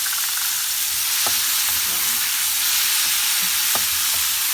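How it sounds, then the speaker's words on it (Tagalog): Shrimp and beaten egg sizzle and fry in a pan for a bitter gourd dish, a constant loud crackling hiss with a few faint stirring knocks. "Ilagay na din natin ang ating shrimp."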